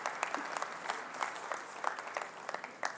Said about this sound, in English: you can give it a round of applause.